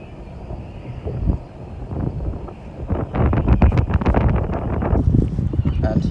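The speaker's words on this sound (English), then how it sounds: "But it's super windy." Strong wind on a lagoon buffets the microphone on a solo kayak, producing rough low rumbling gusts that swell and fade, with a voice talking over it.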